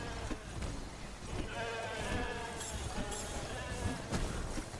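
Sheep creatures in the video game The Spell Brigade bleat several times through a busy layer of game music and effects, the calls short and repeated over steady background noise.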